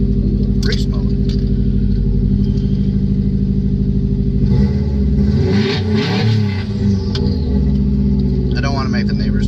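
Car exhaust revving hard in race mode, a deep harmonic engine roar that swells loud in the middle and settles back, with a person talking over it throughout.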